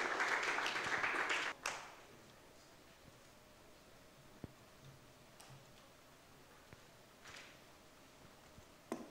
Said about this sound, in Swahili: Naomba na tumpigie makofi wakati anakuja